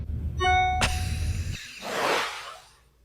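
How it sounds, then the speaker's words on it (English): Phone notification sounds play in quick succession: a bright tonal chime with ringing overtones, a sharp ding, then a soft rising whoosh that fades out, with no talking. "Not even ringtones. Notification sounds."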